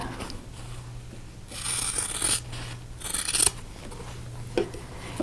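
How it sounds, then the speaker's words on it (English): Scissors trim the fabric corners off sewn quilt blocks, with several close, crisp snipping and rasping bursts of cloth being cut against a faint steady hum. "get all of these corners trimmed off"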